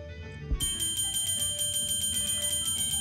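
A doorbell in a horror video game sounds with a sudden bright metallic ring that starts abruptly and keeps resonating in quick repeated pulses over a low hum.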